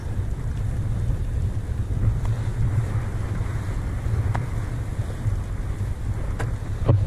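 Steady rushing wind and water noise surround a reefed sailing boat tacking, with low rumbling hull sounds and occasional faint knocks, no voices.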